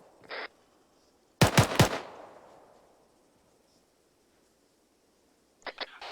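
A tight burst of three or four automatic gunshots crashes close and loud in the military shooter ArmA 3, tracer rounds in use, with a long fading echo, then a faint single pop earlier and another short burst at the end.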